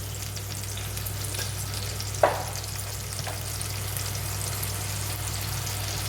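Water from a rinsed mixer jar hits hot oil and ground spice paste in a pan, giving a steady close sizzle with a brief sharp splash near the middle.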